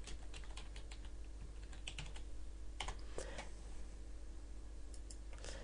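Keys on a computer keyboard tap in short, quiet bursts as text is typed into a spreadsheet cell, the light clicks clustering irregularly over a steady low hum.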